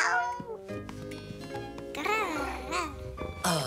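Children's voices mimic cat meows in playful, rising and falling calls, mixed with chatter and a bit of laughter over a soft musical background.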